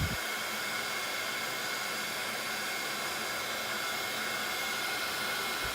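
A handheld heat tool blows hot air over embossing powder on a handmade wedding card, a steady, loud broadband whoosh that holds constant and alone from start to finish.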